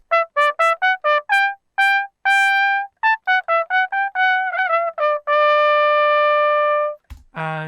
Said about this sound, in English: So vacuum is a monophonic synthesizer.